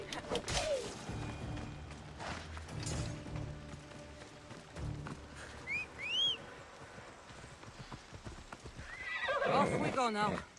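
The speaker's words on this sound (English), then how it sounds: "How dare you knock me off my horse?" A horse in the Assassin's Creed video game whinnies loudly and its hooves clip-clop and gallop amid combat noises, with a second neigh near the end.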